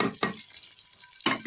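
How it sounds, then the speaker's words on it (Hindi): Onions frying in hot oil in a pan, a steady close sizzle with two louder stirring bursts, one near the start and one near the end. "ऑयल हमारा गर्म हो चुका है। अब हम प्याज भून लेंगे।"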